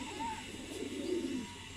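A long-boned female pigeon coos softly, with low, gentle murmuring notes rising and falling over a faint steady background, close but quiet.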